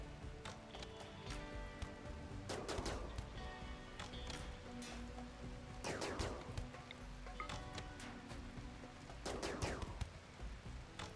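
Gunfire in RimWorld comes in several short clusters of rapid shots a few seconds apart, fairly faint over a steady background of game ambience.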